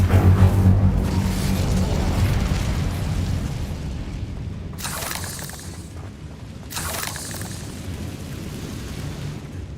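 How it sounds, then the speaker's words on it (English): An Incendio fire spell in Hogwarts Legacy erupts in a loud, roaring blast that rumbles and decays, followed by two further sharp bursts of fiery crackle. "Incendio"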